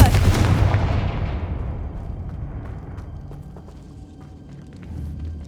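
Confringo fire blast spell in the Hogwarts Legacy video game: a loud, booming explosive burst that decays into a rumbling tail over several seconds, with faint crackles and a slight swell near the end, no voices.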